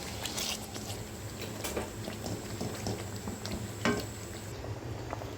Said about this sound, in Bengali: আমার মশলাটা ফুটে উঠলেই রান্না হয়ে গেছে মশলা।